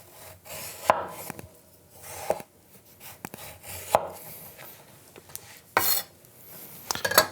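A knife slices segments out of a citrus fruit, separating them from the pith and membrane: a series of irregular, close, soft cutting strokes with a few sharper knocks against a board, no talking.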